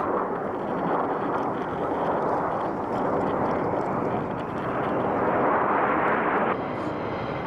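RAF Red Arrows jets sweeping through a parasol break at an air show, a continuous loud, broad jet roar that swells and rolls overhead with some wind buffeting on the microphone.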